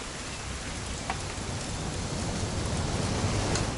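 Steady, dense rain hiss in a video game, What Remains of Edith Finch, a constant wash of falling rain with no other sounds standing out.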